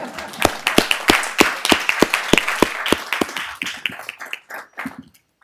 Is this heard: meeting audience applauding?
yes